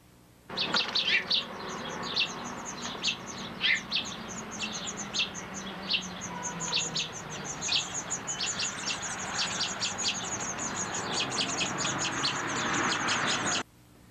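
Bright bird chirps and twittering in quick bursts over a constant outdoor hiss, fairly distant and moderately faint.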